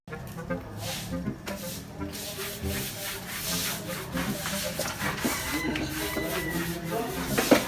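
Steady scratchy rubbing of sandpaper on wood, continuous back-and-forth strokes at close range with faint voices and bumps in the background.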